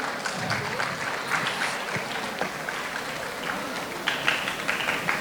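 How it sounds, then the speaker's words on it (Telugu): Audience applause at the TCA Houston Golden Jubilee kick-off event, steady moderate clapping from a crowd heard at a distance, with voices talking over it. "చప్పట్లు కొట్టాలండి"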